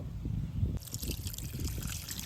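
Water runs over pieces of hilsa fish as they are rinsed, a quiet, close trickling and splashing that grows a little brighter partway through.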